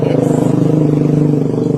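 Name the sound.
motorcycle engine passing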